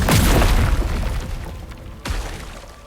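A Plague Splatter wand attack in No Rest for the Wicked lands with a heavy booming burst up front, then a second sharper impact that fades away.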